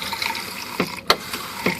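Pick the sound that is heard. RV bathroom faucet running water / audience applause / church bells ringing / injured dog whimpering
RV bathroom faucet running water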